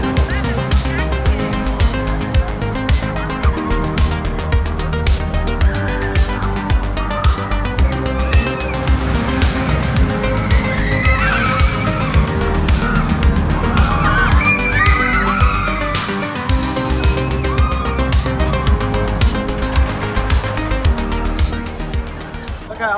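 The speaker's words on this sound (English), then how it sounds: "With these boomerangs, you first go up backwards" Vekoma Boomerang roller coaster at Canada's Wonderland running its backwards lift and loop, a steady loud rumble of wheels on track with rattling and clattering, shifting texture through the ride, with faint voices and screams mixed in.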